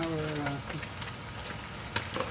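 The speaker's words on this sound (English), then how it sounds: "of course we're gonna continue frying" Galunggong (round scad) crackles and sizzles in hot oil in a pan, a steady frying hiss with occasional sharper pops and a brief clatter at the start.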